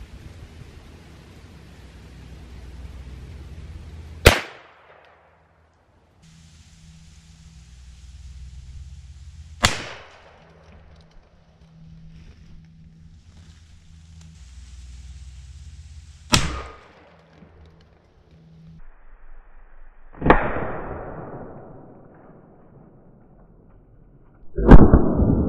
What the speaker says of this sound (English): this is a 9mm Ruger PC carbine versus Ballistics gel human head.